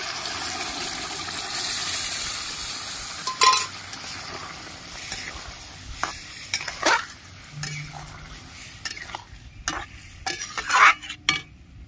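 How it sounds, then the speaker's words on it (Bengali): Boiled chana dal goes into spices fried in oil and gets stirred, with irregular scraping and clanking of the spoon against the pan over a soft sizzle and no talking. "এবার সেদ্ধ করা ডালগুলো আমি দিয়ে দিচ্ছি"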